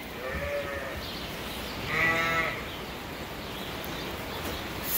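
Dorset sheep in a pen give a few bleats, a short one early and a louder drawn-out one midway, over a steady background hum of the barn.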